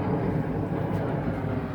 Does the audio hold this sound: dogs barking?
no